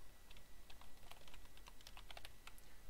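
A computer keyboard is tapped out in a quick, irregular run of light keystrokes as a shutdown command is entered, faint and close, with no voices.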